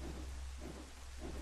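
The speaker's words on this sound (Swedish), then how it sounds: "Det är bara en massa regn som vi hör." Steady rain falls in the Twilight Princess HD video game, a dense continuous hiss with soft low rumbling swells, played on its own with no music or talk.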